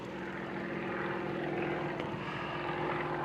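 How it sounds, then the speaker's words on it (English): A Yak-52 propeller aerobatic plane performing a stall turn at a display, its engine a steady, moderately loud droning buzz heard from a distance with no one speaking. "and he's going to do a stall turn now."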